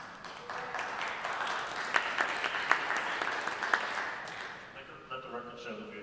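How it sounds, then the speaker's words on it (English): Applause at a government study commission meeting, moderate clapping from a small group with a few sharper claps standing out, tapering off before a voice speaks. "Let the record show that we applauded."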